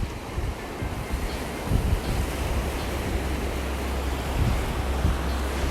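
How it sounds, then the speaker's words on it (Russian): Baltic Sea surf washes steadily on a shore in December, a continuous broad roar of breaking waves mixed with strong wind buffeting the microphone, with no voices. "куда же без моря? Мы же на Балтике."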